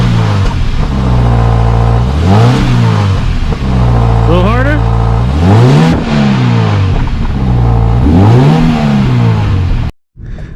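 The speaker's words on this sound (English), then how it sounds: "Give it a couple revs. Couple revs. Again." A 2015 Subaru BRZ engine revs repeatedly through a throaty Megan Racing cat-back exhaust, pitch sweeping up and falling back several times, loud and close, with a voice speaking briefly over it.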